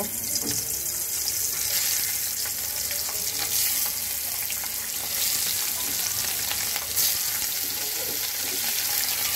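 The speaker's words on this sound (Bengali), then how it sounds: "কড়াইয়ে তেল গরম হয়ে গেছে, এখন আমি এক এক করে ডিমগুলো ছেড়ে দেব" Eggs frying one by one in hot oil in a wok, a loud steady hiss and crackle lasting throughout with small scraping sounds, close up and without talk.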